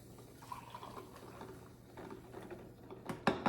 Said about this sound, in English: I'm going to go ahead and pour some coffee from our regular coffee machine.